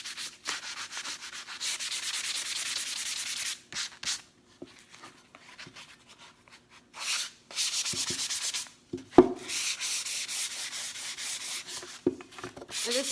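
Sanding of chalk-painted wooden furniture, a dry scratchy rubbing in long close bursts with brief pauses between strokes, loud and steady with no talk over it.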